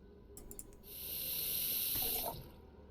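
Tap water runs into a pot in the kitchen game Cooking Simulator, a steady hissing gush lasting about a second and a half after a few brief clicks, close and fairly loud, then cutting off.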